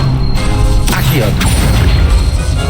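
Accio summoning spell cast in Hogwarts Legacy: a sharp crackling burst with a whooshing sweep near the start, followed by a second smaller hit, over a dense, continuous bed of game sound.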